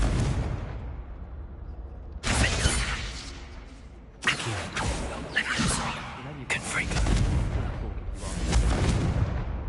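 Fiery Confringo spell blasts in Hogwarts Legacy, several loud bursts arriving in quick succession over a constant rumble of game ambience, with speech-like sounds partly present.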